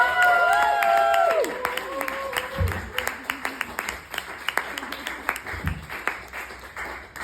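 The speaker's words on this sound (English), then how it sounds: "let's all really give a huge round of applause to our first act, Chaz Langston!" Comedy show crowd applause for the first act, with scattered clapping and a few cheers, following a brief tonal sound at the start, tapering into sparse claps.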